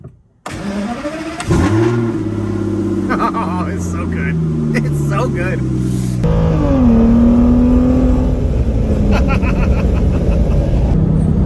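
An Aston Martin sports car engine starts with a whir and settles into a deep idle, then revs up with a rising roar, loud and close, while someone speaks.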